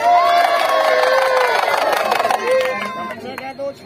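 A crowd of children at a street magician's show shouting and cheering loudly together, a dense, close burst of high voices that fades toward the end.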